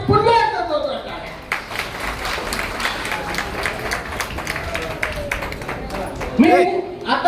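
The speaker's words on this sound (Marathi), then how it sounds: "यासाठी पुन्हा एकदा जोरदार टाळ्या" Audience at a large construction workers' union event in Mahad clapping, a steady mass of applause lasting several seconds, with voices over it at the start and end.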